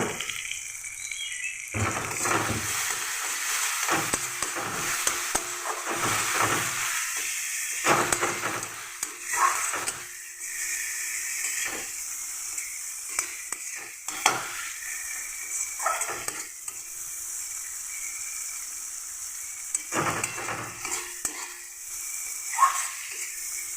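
Spice masala with a pinch of sugar fries and is stirred in a pan, heard as intermittent bursts of hissing sizzle separated by short quieter gaps.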